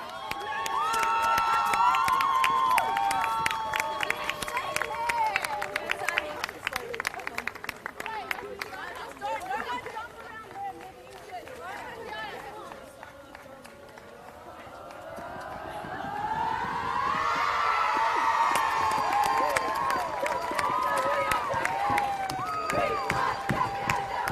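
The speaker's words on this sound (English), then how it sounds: "Round of applause for everyone else making their way across now." At the Nike FC Cup football final between South Melbourne and Calder United, a large crowd applauds and cheers, with shrill horn-like whistles. The noise swells, dips midway, then builds again, while a voice talks over it.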